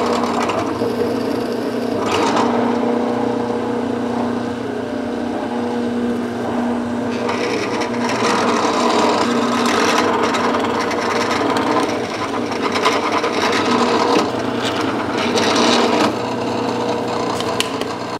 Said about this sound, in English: we'll use the bigger bit and we'll drill through